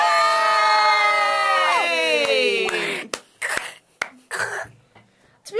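Players of the Miremarsh board game burst into loud, sustained cheering and shouting at the table, the roar lasting about three seconds before dropping to scattered exclamations and laughter.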